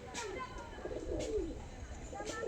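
Breeding-pair pigeons kept for sale coo in short, soft, rolling calls close by, with a voice in the background.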